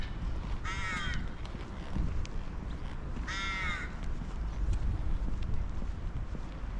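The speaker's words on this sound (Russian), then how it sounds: "Вороны как орут." Crows cawing loudly beside an old palace in the Uglich Kremlin, two bursts of harsh repeated calls over steady wind and outdoor noise.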